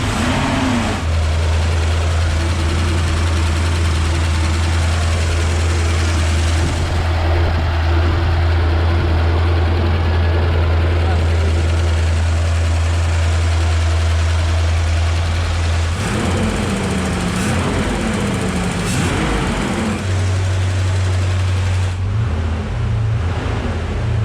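A Porsche V8 engine, brought back after about twenty years, idles loud and close with a deep, steady rumble. Its note shifts briefly partway through before it settles back to an even idle.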